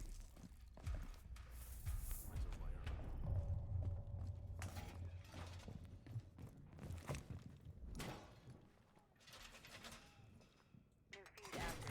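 Hooves clip-clopping from a horse or pony in a video game, a rhythmic clatter mixed with mechanical clanks and occasional gunfire, while commentators talk over it throughout.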